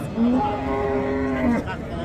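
A red dairy cow lets out a single long, close moo at a Friday livestock market in Pastdarg'om, Samarqand, the drawn-out call carrying over a busy market background.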